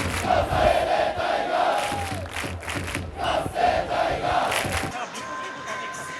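Big crowd chanting in rhythm at a Japanese baseball game, a loud mass of voices roaring and swelling in waves, with brief dips before settling into a steadier, quieter hum near the end.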